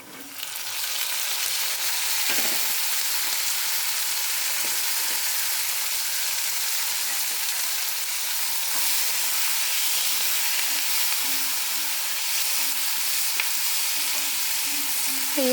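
Tomatoes, green chillies and curry leaves fry with onions in a pan, producing a steady, dense hissing sizzle that runs throughout, with a few faint stirring knocks close by and no talking.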